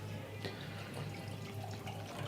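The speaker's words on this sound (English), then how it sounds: "I'm going to pour some more." Wine poured into a glass, a faint soft liquid trickle and splash over low background hum, with no talk.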